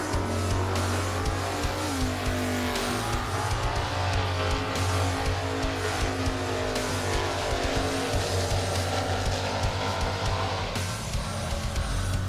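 Super Sedan drag race cars in the final run at Sydney Dragway, one of them a Torana, roar loudly as the engines rise and fall in pitch, with a sustained, sweeping engine howl and no talk.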